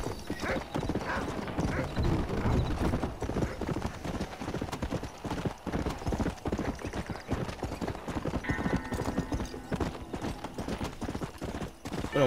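Horse hooves clopping steadily at a trot, with a dark brown horse neighing and whinnying over the hoofbeats, in the video game Red Dead Redemption 2.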